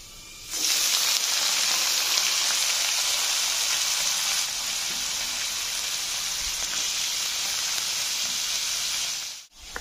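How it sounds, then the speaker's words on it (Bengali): Beetroot and carrot hitting hot oil in a frying pan, bursting into a loud, steady sizzle that crackles on evenly for several seconds before cutting off abruptly near the end, with no talking. "তাহলেই আমি এখন বিট গাজরটা ভেজে নেব।"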